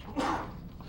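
A single short sneeze bursts out near the start of a town board meeting, loud and close, followed by quiet room tone.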